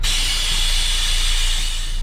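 Nitrogen gas hisses steadily through a refrigeration line from a connected hose while a commercial TRUE freezer system is being purged, a loud continuous close-up rush with no break.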